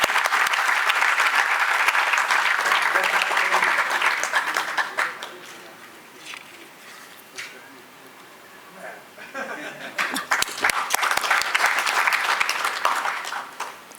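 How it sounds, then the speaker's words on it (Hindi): A crowd at a Vedic awards ceremony breaks into loud, dense applause that fades to scattered claps midway, then swells again into a full round of clapping toward the end. "तालियों की गड़गड़ाहट।"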